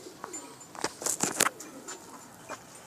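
A pair of pigeons, a Ferozpuri male and a Teddy female, give soft nearby coos and rustles, with a short cluster of brighter chirpy calls and wing or foot flutters in the middle.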